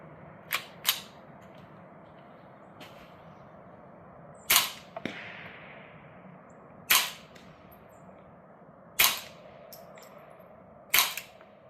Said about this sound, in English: Subsonic suppressed.